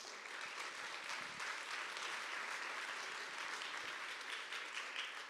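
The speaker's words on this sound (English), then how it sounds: "I just want to give a huge round of applause to all of our coaches" A round of applause for the coaches at a school athletics awards ceremony, dense, even clapping from a crowd held at moderate distance for the whole stretch.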